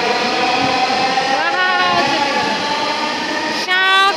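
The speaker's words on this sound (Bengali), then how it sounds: "মেট্রো রেল যাচ্ছে এখন।" A Dhaka metro rail train passes Agargaon station with a loud, close tonal whine and rumble that shifts in pitch as it moves, ending with a brief horn-like rising tone.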